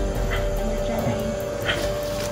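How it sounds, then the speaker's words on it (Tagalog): A dog barks and yips faintly in the distance, a few short repeated calls over a steady hum of background noise. "May aso pala dito."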